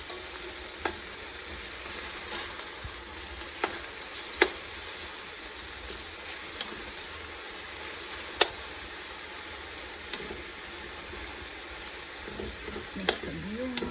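Chicken pieces sizzle steadily in a hot pan for soup as they are turned and flipped, with a constant frying hiss and a few sharp clicks of the utensil against the pan, heard alone without talk.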